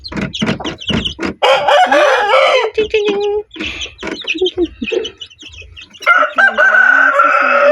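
Chickens and small chicks clucking and cheeping loudly up close during feeding time with corn and mixed feed, a rooster crowing among them, with a few brief murmured voices in between.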